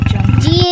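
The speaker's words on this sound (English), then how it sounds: "lion" A lion lets out a short, deep, throaty roar, loud and close, with a pulsing rumble that rises in pitch at the end, heard alone in a brief burst.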